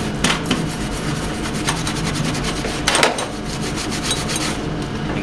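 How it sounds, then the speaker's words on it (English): A greasy metal part being scrubbed with a soft brass brush in a parts washer, a loud close rasping scrub of rapid back-and-forth strokes with brief harder bursts. "What I'm doing is just cleaning it off with the parts washer. I have one of these, this is brass or whatever, so it's soft enough."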